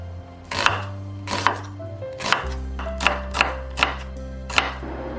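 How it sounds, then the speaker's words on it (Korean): Half an onion is thinly sliced with a knife on a board, about nine crisp, close chopping taps at an uneven steady pace, with no talk. "양파 반 개는 얇게 채를 썰어줍니다."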